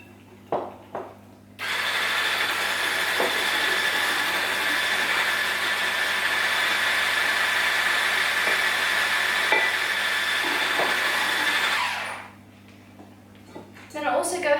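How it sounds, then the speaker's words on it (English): Flour being whisked into madeleine batter with an electric mixer, a steady whirring drone lasting about ten seconds after a few brief knocks, close and fairly loud, with no talk. "So I'll gradually add the flour in while I'm whisking."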